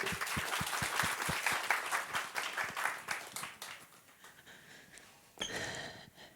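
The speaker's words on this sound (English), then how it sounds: "Please, warm applause to Saara." Audience applause at a live marketing event: a burst of distinct close claps fades over several seconds, followed by a brief renewed swell of clapping near the end.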